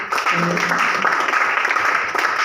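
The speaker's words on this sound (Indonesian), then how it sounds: "Tepuk tangan dulu untuk" Applause from an audience at a student council candidate debate at a nursing academy, a steady, dense wash of clapping filling the whole stretch, with a faint voice partly underneath.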